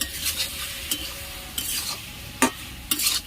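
A splash of water hits a pan of sizzling jackfruit curry with prawns, which is being stirred, giving a steady crackling fry broken by several sharp scraping stirs and a brief hiss.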